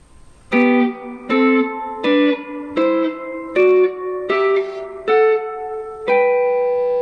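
A guitar plays a major scale in sixths, a rising sequence of two-note intervals, eight even steps with clean sustained tones and a slight effects sheen, no talking.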